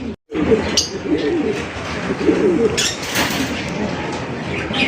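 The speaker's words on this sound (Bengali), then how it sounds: "সুপার কোয়ালিটি একজন বিটি কবুতর, মানে কারো খাঁচার মধ্যে প্রচুর ডাকাডাকি করে" A BT pigeon calls and coos repeatedly inside a cage, close and fairly loud, over a dense, steady background of noise.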